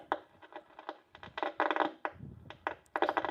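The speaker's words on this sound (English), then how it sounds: "that was the seat belt" Loose seat belt rattling inside a Jeep CJ3B, a quick series of close, sharp clinks and knocks in irregular bursts, with no engine or voices standing out.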